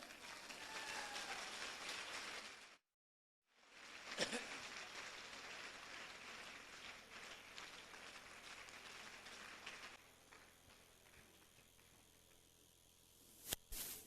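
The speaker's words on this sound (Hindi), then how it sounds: "एक जोरदार ताली बजाओ।" An audience at a Safe Shop motivational seminar applauds loudly for a man called on stage, with dense continuous clapping broken by a short silent gap and fading slightly toward the end.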